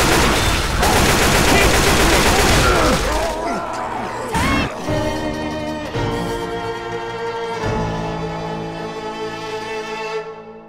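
Gunfire in the video game Left 4 Dead 2, a loud rapid burst of automatic shots at the start followed by scattered heavier blasts and ringing, reverberant tails fading out.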